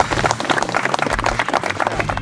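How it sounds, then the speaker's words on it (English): Audience at a Civil Air Patrol survival training bivouac clapping for the safety officer; a dense, moderately loud patter of many hands for a couple of seconds. "Let's give him a round of applause."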